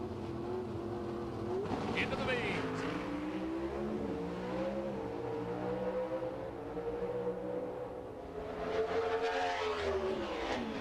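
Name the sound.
NHRA Pro Stock drag race cars racing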